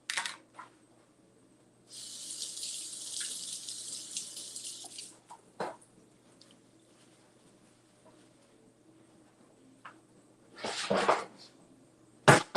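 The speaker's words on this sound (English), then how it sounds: "Let me just rinse it off again." A running kitchen tap rinses green onions in two separate bursts of close, hissing water: a long stretch early on and a shorter one near the end, with quiet between and no talking.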